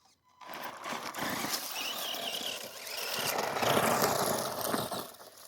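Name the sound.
Tamiya Striker RC car running on its old motor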